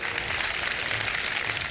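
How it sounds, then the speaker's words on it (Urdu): Studio audience at a Pakistani Ramadan iftar TV show clapping for themselves, a dense, steady burst of applause that holds evenly for the whole stretch. "اپنے لیے تالیاں بجا دیں ایک دفعہ"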